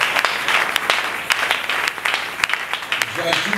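Church congregation applauding during a Bible seminar service, a steady wash of many hands clapping through the room for several seconds, with a voice speaking over the applause.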